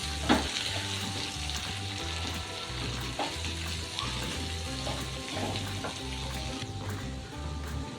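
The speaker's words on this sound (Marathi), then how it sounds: "आता त्याला खालीवरी करून घेते, फिरवून घेते" Spiced mixed vegetables for a Bhogi bhaji fry in a pan, seasoned with red chilli powder, cumin powder, coriander powder, garam masala and turmeric, giving a steady close sizzle with repeated scraping stirs and a low rhythmic pulse underneath.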